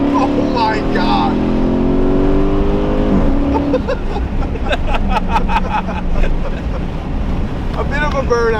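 A Chrysler 300 SRT8 with very high mileage floored from a standstill into a brief burnout on a rough surface in hot weather, its engine and exhaust roaring loudly and steadily throughout, with people talking over it.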